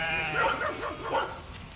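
Sheep in a flock at Mont-Saint-Michel bleat in a few wavering calls, moderately close, over a faint background.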